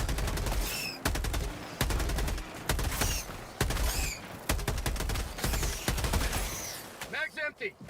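Rapid bursts of gunfire from the video game Helldivers ring out in repeated loud volleys, with game voice lines and a player talking between and over the shots.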